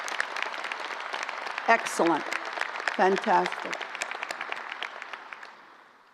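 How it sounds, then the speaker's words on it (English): A round of applause from the crowd at a law school commencement ceremony, a broad wash of clapping that fades out at the end while a voice speaks briefly over it. "I do think that requires a round of applause."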